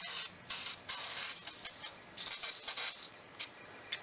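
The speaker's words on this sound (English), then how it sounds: "Put some penetrating fluid on there." Penetrating fluid sprayed onto rusty, heat-seized exhaust pipe bolts beneath a Ford Contour, heard as a series of close, sharp hissing bursts of varying length with brief pauses between them.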